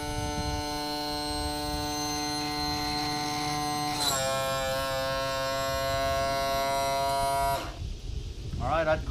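A small electric boat motor runs after being swapped in, giving a steady, close, buzzing hum that shifts pitch partway through and then cuts off, leaving faint handling noises.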